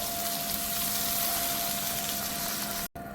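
Water pours steadily into a pot for a collagen soup with carrots, a continuous gushing stream that holds level and then cuts off briefly near the end. No voices.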